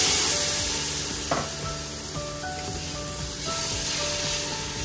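Sliced onion, ginger and tomato sautéing in a pan, a steady close hiss of sizzling oil with occasional soft stirring scrapes, under faint background music.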